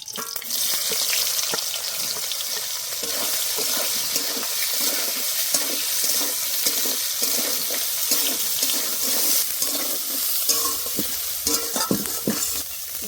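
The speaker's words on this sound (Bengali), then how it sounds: "তেলেই আমি সয়াবিনগুলো দিয়ে দেব" Soybean chunks frying in hot oil in a pan, a loud, dense and continuous crackling sizzle with scraping stirring sounds, steady throughout and heard alone without talk.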